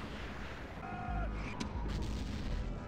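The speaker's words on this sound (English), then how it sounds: "Now we can attack their infantry with our mortars and absolutely demolish them." Mortar fire in the Total War: Rome 1942 mod lands on enemy infantry after the walls fall: a couple of distant, muffled booms in quiet battle ambience.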